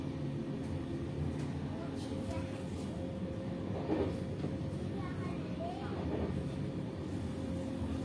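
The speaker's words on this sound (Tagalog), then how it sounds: "Nandito ako ngayon sa train going to the city alone." A double-decker train travels toward Copenhagen in Denmark, with a low, steady rumble of the moving carriage heard from inside. Faint, muffled voices and a few soft clicks and squeaks sit beneath the rumble.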